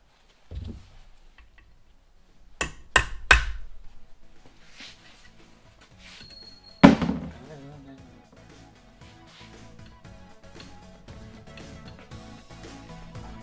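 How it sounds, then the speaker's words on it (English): A few sharp metallic taps from hammering a punch mark into a Toyota 8-inch truck differential, two quick close strikes followed later by one louder hit, with quiet workshop background between. "Okay, punch mark done."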